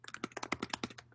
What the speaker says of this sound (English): oh, somebody's typing.